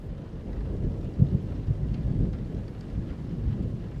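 A thunderstorm with steady heavy rain and deep rumbling thunder, with a sharper crack partway through, continuous with no voices.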